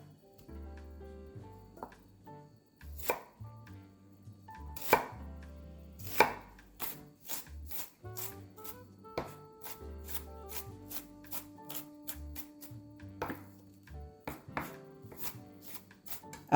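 An onion being chopped with a knife on a cutting board, a series of crisp, close knocks that start sparse and irregular and then speed into a fast, even run of cuts.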